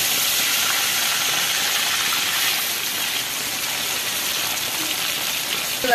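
A fish head goes into a wok of plenty of hot oil and gives off a loud, dense, steady hiss. The roar continues without a break.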